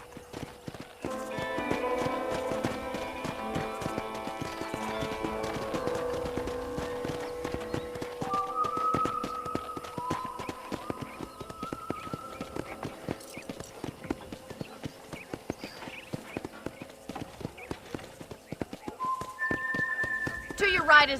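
Horse hooves clip-clop at a steady trot in the Red Dead Redemption video game, joined by a brief whinny, with orchestral music running underneath.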